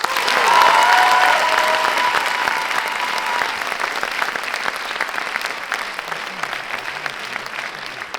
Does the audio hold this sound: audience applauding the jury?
yes